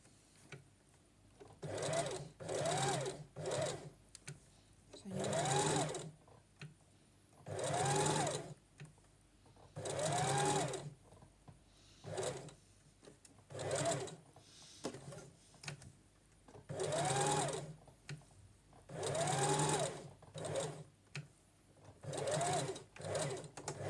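A sewing machine stitches doll body parts in repeated bursts of fast mechanical whirring, separated by short pauses where the needle stops and the fabric is turned; steady, close and loud throughout.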